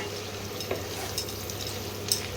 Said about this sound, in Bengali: পেঁয়াজগুলোকে একটু ভাজা ভাজা করে নিই, কাঁচা গন্ধটা চলে যাওয়া অবধি